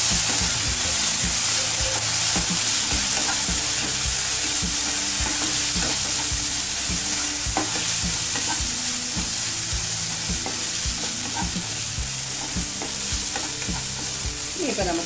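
Vegetables tossed with chili sauce in a frying pan for restaurant-style veg fried rice, a loud continuous sizzle with frequent clinking spatula scrapes and taps against the pan, no voices.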